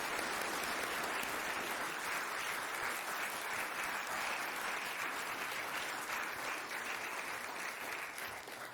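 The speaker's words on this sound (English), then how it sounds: "I would like to invite the audience to join me in a round of applause to thank him." A seated audience gives a steady, sustained round of applause, dense even clapping filling the hall from start to finish with no voices over it, tapering only slightly at the very end.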